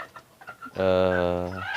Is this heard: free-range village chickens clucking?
yes